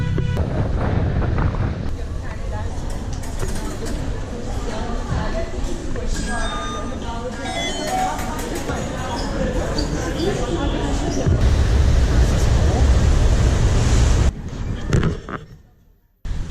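Wind buffeting the microphone and churning water aboard a ferry crossing from Beşiktaş to Kadıköy in Istanbul, a continuous loud rush with a voice talking over it, cutting out near the end.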